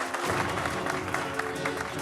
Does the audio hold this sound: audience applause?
yes